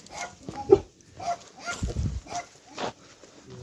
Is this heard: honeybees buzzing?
no